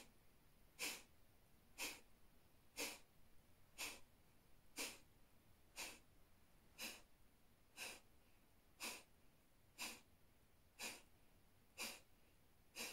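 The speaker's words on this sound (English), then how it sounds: "So we're gonna try and do the Kapalabhati only for 20 times" Kapalabhati breathing exercise done as part of a stress-reducing routine: a series of twelve short, sharp nasal exhalations, evenly spaced about a second apart, close and clear against a quiet background.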